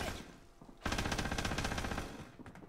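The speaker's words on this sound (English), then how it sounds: "Lord, they got a sentry gun up!" An enemy sentry gun in a shooter game fires a sustained rapid automatic burst of about a second and a half, loud and close, with softer scattered shots before and after.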